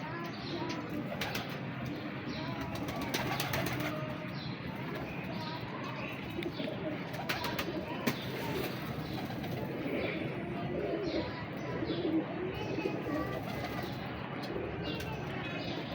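Kasuri pigeons coo softly and steadily, with a few brief chirps, in a quiet enclosure while someone speaks over them.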